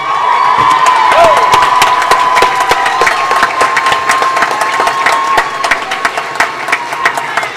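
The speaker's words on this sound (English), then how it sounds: "So yeah, clap for them!" A large crowd at a graduation ceremony in the Los Angeles Convention Center cheers and whoops loudly, with scattered clapping and high shouts running throughout.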